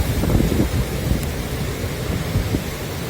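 Hurricane Zeta's roaring wind and heavy rain batter the surroundings in a loud, continuous rumble with gusting surges.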